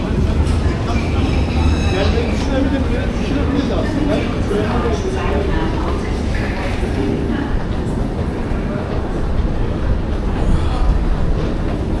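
A train pulling into a station, with a steady loud rumble of rolling wheels and rail noise throughout, while voices talk nearby.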